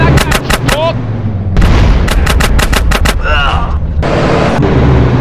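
Loud gunshots from the video game GTA San Andreas, with bursts of rapid automatic fire over a rumbling game background and some voice, separated by brief gaps.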